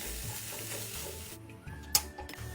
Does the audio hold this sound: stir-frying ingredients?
yes